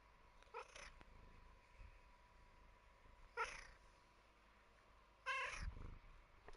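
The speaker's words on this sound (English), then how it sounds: "that's Carl's assessment, my cat, of this game." A pet cat meows three times, short spaced calls at moderate volume over a quiet room with low background hum.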